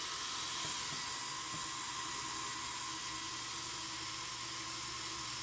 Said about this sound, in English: I used to have my own quadcopter and it looked and sounded like this.